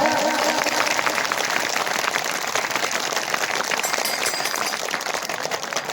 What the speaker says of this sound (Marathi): ताळी वाजवा ताळी वाजवा